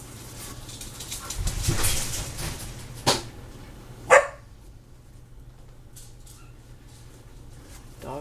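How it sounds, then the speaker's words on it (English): Dogs barking outdoors, heard faint and somewhat distant in a few scattered barks, with a couple of sharper ones standing out over a steady background hum. "Dogs are outside going nuts over something."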